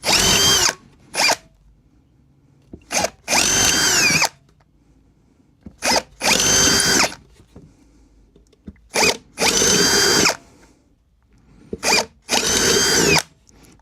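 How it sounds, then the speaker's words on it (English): A power drill bores holes in an amplifier chassis, whirring loudly in repeated short bursts of a second or two with quiet gaps between, close to the listener. "All of these ones can be drilled with this, so we'll go ahead and do that then."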